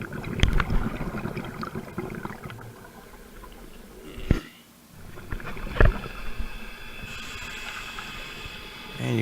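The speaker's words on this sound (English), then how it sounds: "And you can hear a boat cruising by." A boat passes over water with a soft, muffled drone and sloshing, recorded from below near a cove at sunset, punctuated by a few sharp nearby knocks and thumps.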